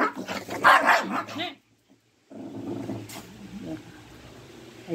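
A pet dog at home barks in a few sharp bursts close by, with a person talking over and around the barks before a short pause and more speech.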